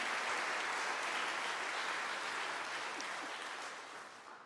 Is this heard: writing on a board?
no